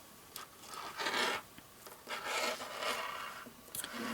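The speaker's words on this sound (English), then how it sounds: "the bottom here is a little bit uneven, so we're going to go ahead and trim that" Scissors trim the uneven yarn ends at the bottom of a handmade boho tassel, giving a few close, soft rasping snips and rubbing sounds in quick bursts, with no talking.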